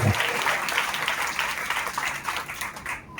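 A church congregation claps together during a Sunday service at Messiah Temple in Pedakakani, a dense, steady wash of applause that fills the room and fades slightly near the end.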